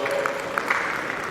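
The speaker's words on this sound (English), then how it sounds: "A round of applause" Brief applause at a food science and technology conference, a soft wash of clapping from the audience with a few sharper claps standing out, no voices on top.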